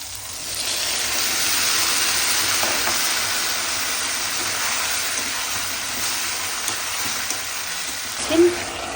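Tuna sizzles in a pan with cumin and coriander paste, a steady close frying hiss with faint clicks and one small bump near the end.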